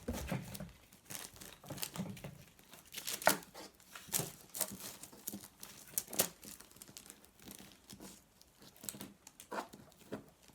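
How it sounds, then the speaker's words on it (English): Paper backing is peeled and crinkled off ornament-making material at close range, giving irregular soft crackles and tearing bursts scattered over a quiet background. "we're going to peel the paper off"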